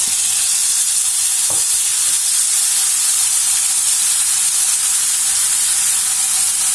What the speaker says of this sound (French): maintenant l'huile elle est chaude, je vais mettre l'oignon